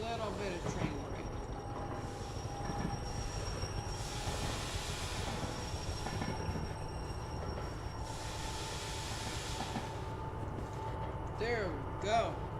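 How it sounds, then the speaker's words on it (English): A train brakes in the Derail Valley railway simulator, with a steady low rumble of rolling stock and bursts of hissing air release rising and falling over several seconds, with a faint squeal near the end. "Little bit of train brake."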